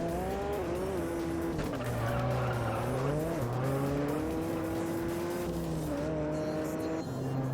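A car drifting in the racing game Juiced, a continuous loud tire squeal with wavering pitch over a steady engine drone, sustained throughout.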